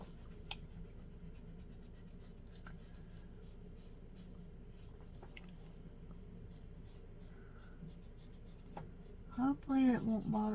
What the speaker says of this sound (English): I hope it don't hurt the marker to go over this pencil here.